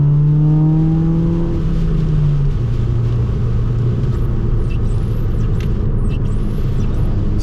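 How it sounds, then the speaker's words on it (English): Heavy rain pours on a tuned Nissan Micra K11, a loud constant wash of noise heard from close by. A low engine hum winds down beneath it. "all you can hear now is rain noise rather than Kittenface's lovely little raspy exhaust"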